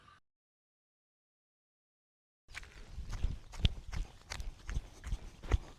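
Wild horses walk nearby, hooves clip-clopping in an irregular stream of close, dull thuds after a moment of silence, with no talk over them.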